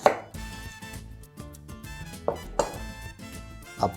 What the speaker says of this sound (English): 1/5 of an onion, and we're gonna mince it really, really fine